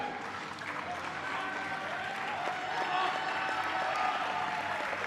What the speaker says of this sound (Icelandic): Hann er með fleiri að klappa heldur en er í klúbbnum